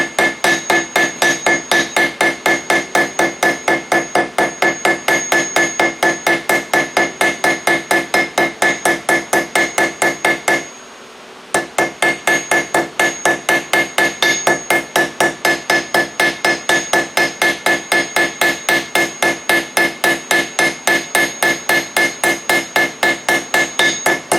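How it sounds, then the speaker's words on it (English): A blacksmith's hammer strikes steel in a fast, steady rhythm while fullering out stock for a leaf-shaped wall hook, loud, close and continuous, with one brief pause partway through. "Now from here, we start fullering out."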